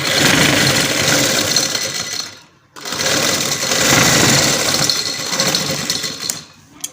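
Sewing machine stitching cutwork designs onto trousers, a loud close whirring run that pauses once for a moment before resuming, then slows and stops.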